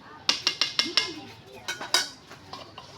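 Metal cookware clatters as a lid goes onto a pot of prawn malai curry on the stove: a quick run of sharp clinks and taps, a louder clank, then a few softer knocks, close by.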